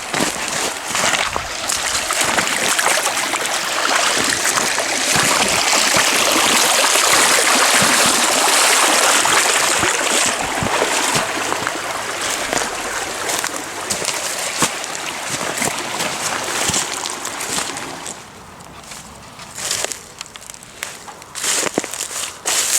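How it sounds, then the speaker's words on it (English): A creek in the Ozark Mountains of southwest Missouri rushes loudly and continuously as someone wades across, with splashing steps through the water that thin out toward the end as the wader reaches the bank. "I'm going to have to cross the creek and up that bank."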